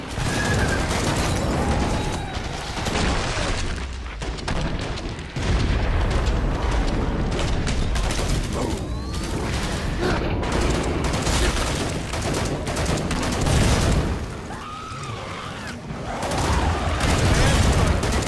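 Killing Floor 2 demolitionist weapons firing: dense bursts of gunfire and repeated booming explosions, loud and continuous with brief dips, a voice speaking over the barrage.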